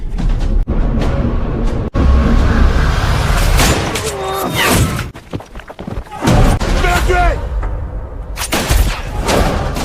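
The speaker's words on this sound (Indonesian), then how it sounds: "Dalam baku tembak yang sengit itu" A fierce gunfight in a film scene, with sharp, close shots cracking through a loud, dense mix of booms, thuds and action noise, and voices shouting over it.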